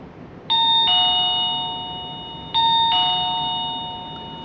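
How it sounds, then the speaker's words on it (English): A two-tone electronic chime from an Auxtron digital peephole video doorbell rings twice, each ding-dong clear and close, with the tones lingering and fading between presses. "as soon as somebody clicked on the doorbell outside, you can see who's standing outside the door"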